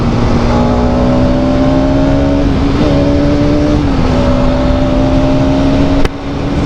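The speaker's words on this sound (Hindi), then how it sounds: "So this power delivery and the exhaust note and the overall feel about this bike" A 5-year-old Bajaj Pulsar NS200, a 200 cc motorcycle, is ridden with a loud, steady engine and exhaust drone whose pitch rises gently and dips slightly a few times.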